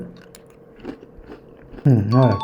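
Crunchy nachos made with egg corn salad are bitten and chewed at close range, soft crunches first, then a loud bite near the end, with faint voice sounds in the background.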